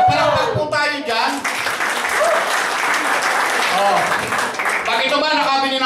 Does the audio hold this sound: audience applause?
yes